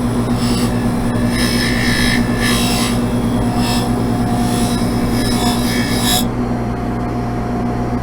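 A jewelry bench polisher runs with a steady motor drone and a loud, continuous hum. An abrasive wheel cleans metal, giving repeated brighter rubbing bursts that stop abruptly near the end while the motor keeps running.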